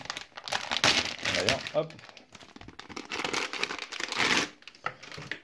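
Plastic packaging around a 3-metre HDMI cable crinkles and rustles as it is opened, in several bursts of crumpling close by, with a person talking over it.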